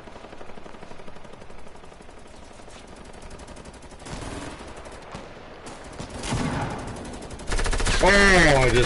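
Sniper rifle gunfire in a PS4 shooter game, with several sharp shots spread across the stretch and rising in loudness toward the end amid other game sounds and low, muffled talk.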